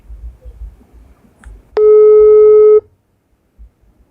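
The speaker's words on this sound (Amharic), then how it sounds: "እየጠራ ነው።" A phone call's ringing tone sounds as a single loud, steady electronic beep lasting about a second, preceded and followed by faint background murmur.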